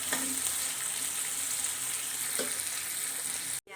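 Tomatoes brown in a pan with garlic and ginger, frying with a steady, close sizzle and crackle, interrupted by a couple of faint stirring scrapes and a brief cut near the end.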